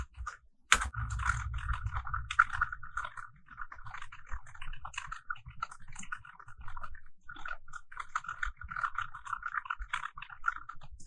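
Fingers type steadily on a computer keyboard up close, a continuous run of light key clicks with a few heavier strokes, with no talking.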